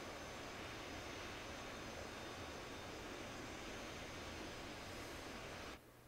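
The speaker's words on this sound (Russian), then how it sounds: "У меня вот твои двигатели работают. Я шум слышу, хотя левый практически встал." Jet engines running in the DCS World flight simulator, a steady broadband roar with a high whine, holding loud and even before dropping off sharply near the end; no talk over it.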